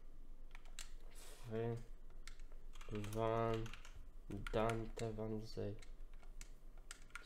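Light computer clicks and key taps tick away while someone navigates a football management career game. The clicks sit underneath someone speaking at length.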